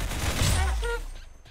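A short burst of rapid gunshots from the video game Roblox Arsenal, loud and close, fading out within a second and a half, with a little speech mixed in.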